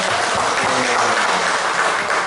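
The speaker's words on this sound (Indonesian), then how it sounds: "tepuk tangan dong buat saya." An audience at an anti-corruption awareness session gives a dense, steady round of applause for the presenter, many hands clapping together at moderate loudness with no talk over it.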